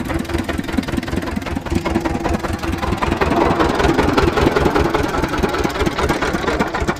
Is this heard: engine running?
yes